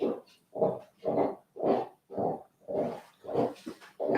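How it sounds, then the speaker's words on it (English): Several dogs chew and grind on marrow bones nearby, giving off a series of about eight rhythmic, rasping crunches spaced roughly half a second apart. "Can you hear the grinding from the dogs?"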